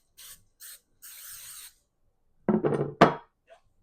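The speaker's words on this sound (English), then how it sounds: "we are just going to spray this." Cooking spray is misted onto a baking dish in three short hissing bursts, close to the microphone. A few clunks and clattering knocks of the can and dish follow.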